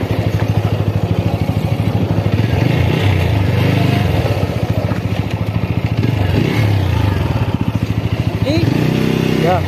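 Yamaha R15 motorcycle engine revving loudly and steadily while the clutch is held in, a continuous close rumble with rising and falling revs, voices talking over it during an offroad ride.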